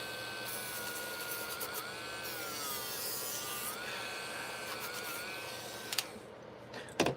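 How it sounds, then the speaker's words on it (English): Steady rasping sanding on the reinforced structure of a scale model Hammerhead Corvette build, a continuous close scratchy rub with small shifts in pitch and a few knocks near the end. "Need a little bit of sanding work on this."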